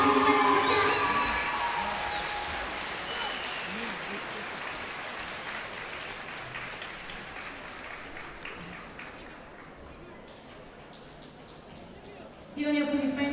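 At a dance competition, the crowd breaks into loud applause and cheering with whoops for the winning couples. The ovation is strongest at first, eases into sustained clapping, then swells again near the end.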